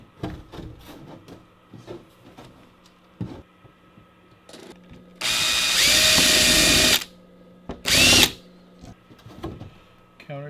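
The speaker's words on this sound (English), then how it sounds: "I got to countersink that before I put the screw in" A power drill countersinks a screw hole in wood on a winter camping toboggan, two short loud bursts of drilling following scattered knocks and handling clatter.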